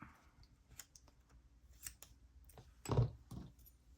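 Scissors trim paper for a planner setup: scattered light snips and paper handling, then one louder, fuller cut near the end, close and alone with no talking.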